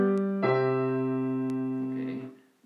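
An authentic cadence in four-part harmony with the soprano ending on so: a held chord moves into a final sustained chord that rings evenly and fades at the end, with no talking.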